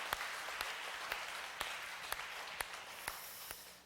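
A church congregation claps steadily to encourage a couple during a Sunday service, the applause sustained and fairly distant, with sharper individual claps standing out at a regular pace.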